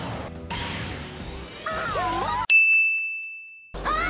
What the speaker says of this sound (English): Booting Jenga from the van inexplicably makes the same sound as a Pokeball opening.